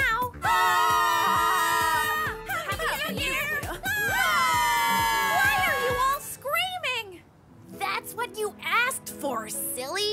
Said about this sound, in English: Apple, I'm not a fan of all this screaming